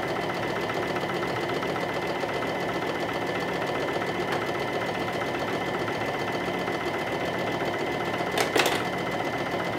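A sewing machine stitches a dress neckline with black thread, giving a steady, loud, continuous mechanical whir for the whole stretch, with a brief sharper click near the end.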